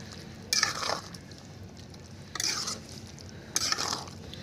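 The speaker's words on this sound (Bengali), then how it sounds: "আবারও একবার নেড়ে দিচ্ছি।" A spicy pan dish sprinkled with chili flakes is stirred in three separate bursts of scraping, with a soft steady sizzle underneath and quiet gaps between the strokes.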